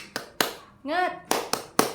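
Children's sharp hand claps land in a quick rhythmic cheer pattern in a classroom, broken in the middle by a short, high voice calling out, all close by.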